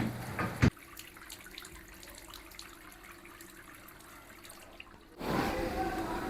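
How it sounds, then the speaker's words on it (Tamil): Faint, steady running water from a tap hisses for several seconds, with louder voices breaking in at the start and again at the end. "அப்புறம் ஏன் உள்ள தண்ணி சவுண்ட் கேட்குது?"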